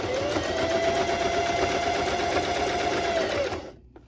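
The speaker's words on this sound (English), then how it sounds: "We're also going to start sewing 2 inches from one end." Sewing machine stitching fabric for a face mask, a steady close mechanical whir running evenly for about three and a half seconds before stopping abruptly.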